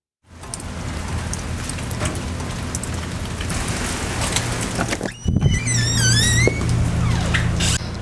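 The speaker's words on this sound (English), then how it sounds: "It's a rainy day." Steady rain falls outside a woodworking shop, a continuous close hiss of drops on surfaces with occasional thunks; birds chirp briefly in the background near the end.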